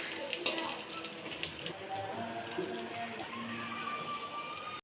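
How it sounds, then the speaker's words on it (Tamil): Fish frying in hot oil for a village-style fish curry, a steady crackling sizzle with light clinks of a utensil, moderately loud and continuous throughout. "நல்லா வறுத்துச்சு."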